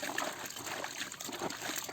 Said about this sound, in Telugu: వాటర్లో నీట్గా క్లీన్ చేసుకుంటున్నాను.